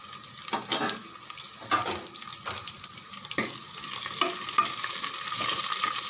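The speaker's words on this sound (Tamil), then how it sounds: "பூண்டு நல்லா வதங்கட்டும்" Garlic sautés in oil in a pan with curry leaves and green chillies for a South Indian tomato kadayal, a steady hiss broken by occasional scraping stirs, close and moderate, no voices.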